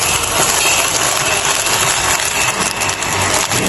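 A school-built garbage grinding machine runs loudly and continuously, a dense mechanical whir with a high whine and rattling chopping noise, close up and steady throughout.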